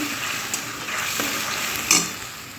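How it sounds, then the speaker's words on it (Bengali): Spice paste with cumin and bay leaf fries in a wok, a steady close sizzle broken by a few scraping stirs and one sharper clink near the end, with no talking. "এবার মশলাটাকে আমি ভালো করে কষিয়ে নিয়ে"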